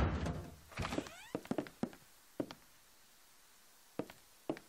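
A door closes in the game Rust, heard as a series of short hollow thunks and knocks, some clustered and some spaced apart, fairly quiet and alone after a brief opening sound.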